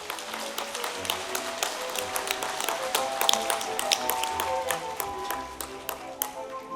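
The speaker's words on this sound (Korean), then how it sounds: "다시 한번 큰 박수로 축하해 주시기 바랍니다" An audience at the inauguration ceremony of the 23rd Nonghyup Central chairman applauds steadily, a dense patter of close and distant hand claps that holds without a break.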